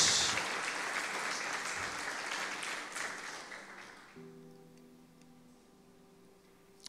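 Church congregation applauding after a prayer-service call to praise, a dense wash of clapping that holds steady for about four seconds, then thins and fades out, leaving a faint sustained hum beneath.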